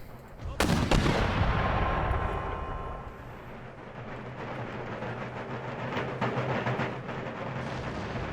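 Mortar artillery in the Empire Total War battle game: one sharp, loud blast followed by a long rumbling decay over steady battlefield noise.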